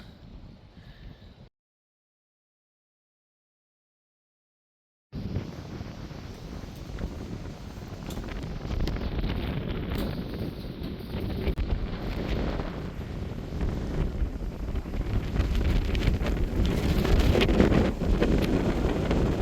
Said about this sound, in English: So windy, it almost knocked the phone right out of my hand.